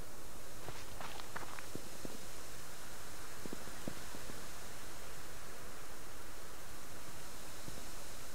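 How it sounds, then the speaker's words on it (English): Faint, scattered footsteps in the survival video game Subsistence, a few soft steps early on over a steady hiss of ambient noise. "I can hear footsteps."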